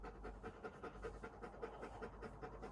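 A dog pants rapidly and steadily very close by, a continuous rhythmic huffing with no voices.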